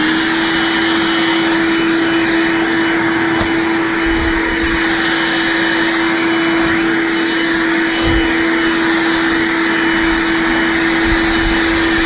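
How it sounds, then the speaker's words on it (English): Vacuum cleaner runs continuously with a steady, loud whine and roaring airflow while sucking up fiberglass dust from a cut hole in an R33 Skyline body kit, with occasional faint knocks. "I was vacuuming up the fiberglass"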